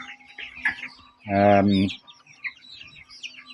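Meat chickens give a loud, close cluck that sits among quieter birdlike chirps, with no talk over it.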